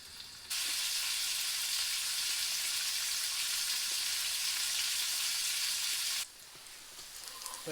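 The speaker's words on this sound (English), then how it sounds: "I'm just going to cook the rest of those perch." Perch fry in a pan out on the ice, a loud steady sizzle that starts abruptly, holds for several seconds, then drops back to a softer hiss.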